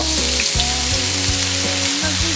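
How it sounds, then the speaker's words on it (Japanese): Burdock root frying in sesame oil in a pan over high heat, giving a loud, steady, dense sizzle that runs unbroken throughout with no talking. "強火でごま油入れます。 ごぼう入れます。"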